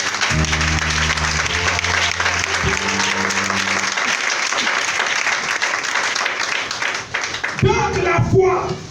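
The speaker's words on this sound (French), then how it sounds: "Acclame le Seigneur très fort." A church congregation applauds loudly and continuously, dense clapping at close range over a sustained musical tone, with louder cheering and voices rising toward the end.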